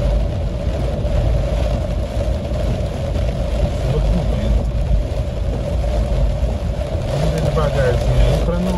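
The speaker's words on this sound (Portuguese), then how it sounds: "Muita chuva. Chuva com vento," Heavy rain and wind beat on a car driving along a road in Itu, a dense continuous roar of rain with engine drone underneath and a voice speaking over it.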